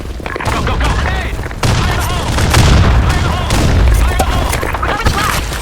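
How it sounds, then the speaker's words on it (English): Grenade blasts and dense gunfire in the online shooter BlackShot boom loudly and continuously, with heavy thumps and rapid shots layered over each other while voices shout in the game. "Grenade!"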